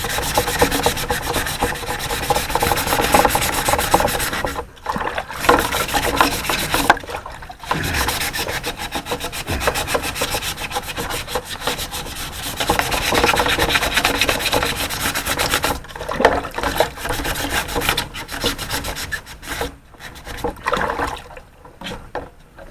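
Wet sanding car headlights with 600-grit sandpaper to remove a heavy opaque coating gives a loud, continuous close-up rubbing and scratching that runs with only brief breaks.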